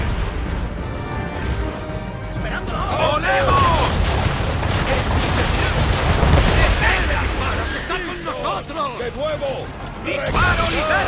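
Naval cannon fire during an Assassin's Creed 3 sea battle, heavy booming volleys and crashing impacts rolling almost continuously, loud and close, with shouted orders in Spanish over the barrage.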